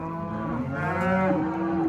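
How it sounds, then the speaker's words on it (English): Cattle on a ranch, sorted steers and heifers, moo loudly and close by, several overlapping bellows blending into one long, wavering low call. "We've got a bunch of cows over here"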